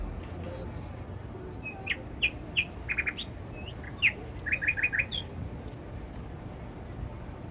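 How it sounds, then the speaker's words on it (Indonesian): Birds chirp in short bright bursts and quick clustered runs near the Prophet's Mosque in Medina, where red-footed pigeons are fed, over a steady crowd-like background murmur. "memberi makan burung merpati berkaki merah"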